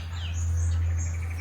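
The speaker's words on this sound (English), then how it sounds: "A lot of birds flying around today." Birds chirp and call outdoors, thin high tweets drifting over a loud, steady low hum, moderately distant and brief.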